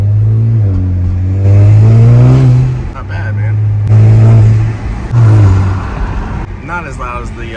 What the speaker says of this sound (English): you want that blow-off valve sound. That's just an exhaust back there